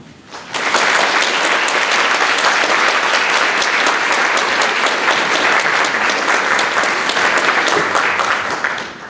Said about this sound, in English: let's do one more round of applause for Dr. Basyouni